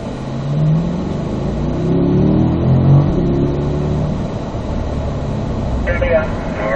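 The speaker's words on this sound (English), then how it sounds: "we'll go ahead and build back our pace here, Alex. Just drive to your comfort level. Third gear." A Corvette accelerating in third gear on a race track during a driving-school run, its engine droning steadily and fairly loud beneath an instructor's voice.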